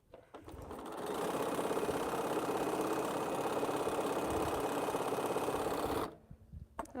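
A sewing machine stitches quilt blocks in a steady, fast mechanical whir. It runs loud and continuous for about five seconds, then stops abruptly, and a few soft handling clicks follow.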